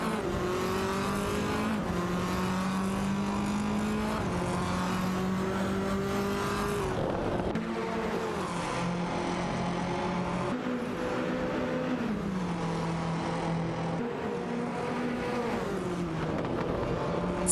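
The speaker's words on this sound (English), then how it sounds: "Susanne Greenberg and Super Lacroix are driving a Lada Vesta, while Huggett 3 is behind the wheel of an Audi RS3 TCR" TCR touring cars, including a Lada Vesta and an Audi RS3 TCR, race in a video game, their engines whining loudly and continuously as they rise and fall through gear changes, with several cars overlapping.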